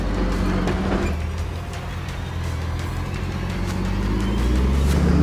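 A modified 4WD truck crawls through deep ruts on a night trail run, its engine droning steadily and loudly up close, rising and falling slightly under load with rumbling and scraping noise over it.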